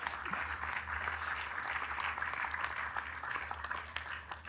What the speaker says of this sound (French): moi, je dis nouveaux applaudissements.